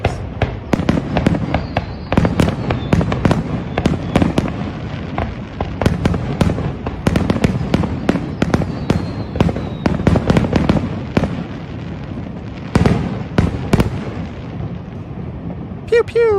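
Fireworks burst in a rapid, irregular barrage of sharp cracks and booms, loud and continuous over a rumbling background, with crackling between the blasts and no pause through the whole stretch.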